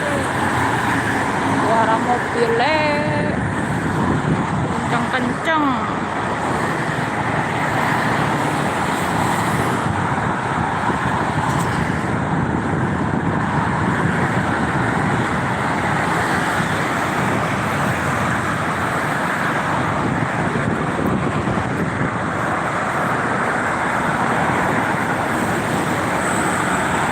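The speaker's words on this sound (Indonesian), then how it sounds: "suara mobilnya kenceng-kenceng" Continuous roar of heavy roadside traffic on the Jakarta–Cikampek toll road on a Sunday afternoon, cars and larger vehicles rushing past close by in an unbroken loud wash, with a few brief higher tones near the start and faint talk underneath.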